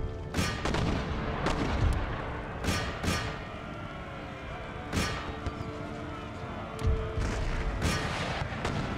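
Artillery cannons fire repeatedly in an Empire: Total War battle, with loud booming blasts at irregular intervals over a constant rumble of distant gunfire and battlefield noise.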